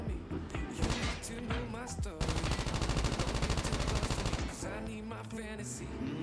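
Automatic assault rifle fire in the mobile game COD Mobile: a dense, rapid burst of close, loud shots at a high fire rate over busy in-game background sound.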